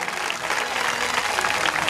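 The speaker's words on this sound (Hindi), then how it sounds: "एक बार अटोरा वालों के लिए जोरदार तालियों से" Loud, steady applause from an audience at a Shrimad Bhagavat Katha religious gathering, a dense continuous wash of clapping that holds level throughout without pause.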